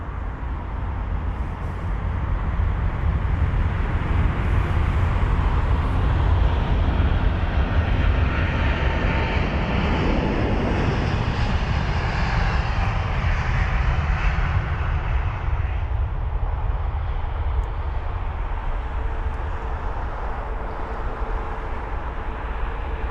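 A British Airways Airbus A350-1000 takes off from Heathrow, its jet engines a loud, sustained broadband roar that holds steady for the whole stretch and shifts in tone as the aircraft passes, with no voices.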